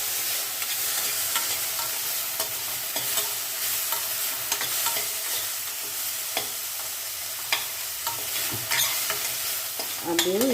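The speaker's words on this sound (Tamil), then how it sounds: "கொஞ்சம் நேரம் வதங்கட்டும்" Chayote and carrot sautéing with onion in a pan, a steady loud sizzle over continuous stirring, with frequent light spatula clicks and scrapes against the pan throughout.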